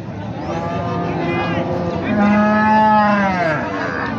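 Cows at Raniganj cattle market, with one loud, drawn-out moo and a second rising bellow standing out over steady market crowd noise.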